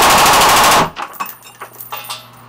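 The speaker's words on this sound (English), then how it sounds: "this one also happens to be a machine gun, which we'll be using here just a few minutes" Short-barrel .308 machine gun fired on an outdoor range into a berm: a loud, dense burst of rapid shots for under a second, followed by quieter rattling and clattering.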